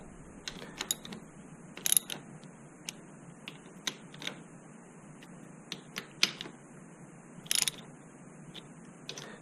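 Ratchet tightening the handlebar bolts on a Honda CRF250L during a ProTaper Contour handlebar install, quick irregular clicking bursts with small metallic knocks over a faint steady hiss, close and fairly quiet.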